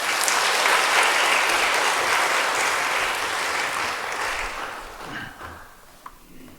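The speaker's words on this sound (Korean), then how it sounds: "큰 박수로 환영해 주시기 바랍니다." An audience at a hospital chapel service applauds to welcome a pastor to the podium, a dense, sustained wash of many hands clapping that gradually thins and fades out in the final seconds.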